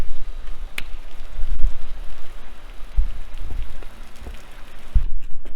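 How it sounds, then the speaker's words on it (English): Steady rain hisses across the whole stretch, with scattered louder drops and thuds landing close by before it briefly thins near the end. "It's raining!"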